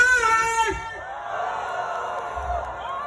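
A church audience gathered in a garden setting cheers and shouts together, a loud burst of whoops and yells that gradually settles into a broad, sustained crowd roar.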